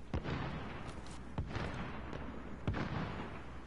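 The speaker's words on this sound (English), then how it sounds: "Sometimes gunshots sound like footsteps." Gunfire in the battle-royale shooter Warzone: several sharp reports at irregular intervals, one of them louder and closer, set over a steady bed of in-game ambience with no talking.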